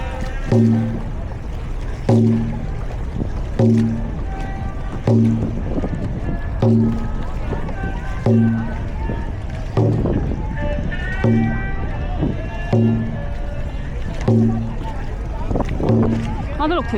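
Dragon boat paddles strike the water in a steady rhythmic beat, roughly every one and a half seconds, with a loud splashing stroke each time. A voice calls out and wind noise runs throughout.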